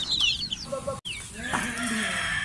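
Free-range country chickens cluck and squawk in short, uneven bursts, close by, with a brief pause midway and a busy farmyard background.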